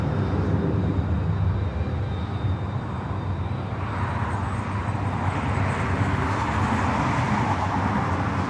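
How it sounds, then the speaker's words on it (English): A United Boeing Dreamliner jet arriving at LAX airport, a steady broadband roar of engines and rushing air that holds at a loud level throughout, with no break or fade and no voices over it. "the United Dreamliner up next for arrival"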